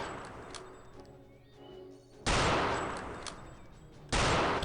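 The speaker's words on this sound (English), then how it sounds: "people have jumped out the back and shooting at me with quite an alarming degree of accuracy" Enemy gunfire in Return to Castle Wolfenstein during an air base assault: two loud, sustained bursts of automatic fire, each lasting a couple of seconds, after quieter game ambience with faint shots.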